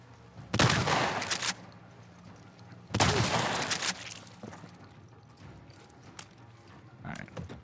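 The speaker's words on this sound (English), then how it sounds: "You can see 3 shots with the pistol." Two sharp, loud pistol shots go off a couple of seconds apart in The Last of Us Part II, followed by a fainter third pop and scuffing movement, with a player talking quietly over it.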